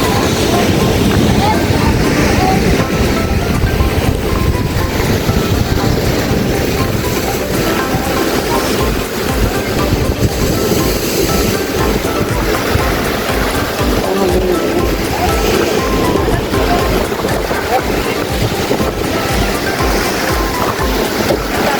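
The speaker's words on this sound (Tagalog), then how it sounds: "Sobrang alon lang yan." Strong ocean waves roll and crash at a beach on Siquijor, a steady, loud, broadband roar of surf and churning water that continues without pause throughout.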